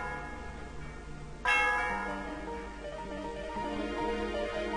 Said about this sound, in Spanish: El sonido de la campana resuena por todo el lugar.